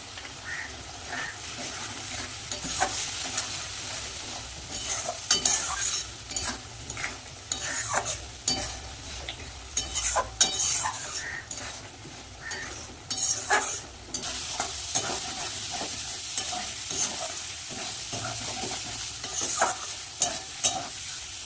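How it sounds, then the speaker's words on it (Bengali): Spice paste and potatoes sautéing in a pan, a low steady sizzle broken by repeated scraping and stirring strokes of a spatula, close and uneven in rhythm, with no talk. "মশলাটা দিয়ে আলু দিয়ে ভালো করে কষিয়ে নেব"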